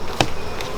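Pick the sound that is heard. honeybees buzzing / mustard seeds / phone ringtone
honeybees buzzing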